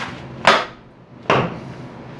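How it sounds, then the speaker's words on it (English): Two sharp metallic hammer strikes drive a keeper clip during a 1996-2000 Honda Accord automatic transmission replacement, landing about a second apart, each ringing briefly before fading. "Just hammer it a couple of times like that."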